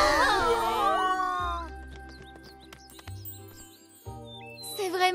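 Birds chirp and tweet in short, high, scattered calls through an animated cartoon scene set among trees, with other cartoon sounds and a low hum underneath.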